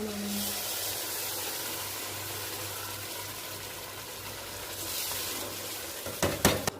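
Constant loud sizzling and hiss of saag greens frying in a hot pan of tempering spices, with stirring and a few clattering scrapes near the end.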